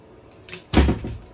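A door in a home is handled, giving a soft knock and then a heavier thud as it shuts, close by and alone without talk.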